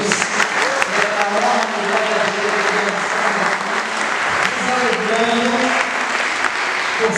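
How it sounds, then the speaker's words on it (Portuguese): A Baptist congregation at a 120th anniversary celebration breaks into sustained applause, loud and dense, with some voices and cheering mixed in under the clapping. "dê uma salva de palmas para Jesus."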